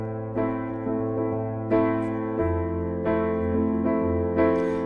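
A piano plays a song in quick, repeated sixteenth-note chords imitating guitar strumming, with several chord changes over a few seconds, played alone and clearly.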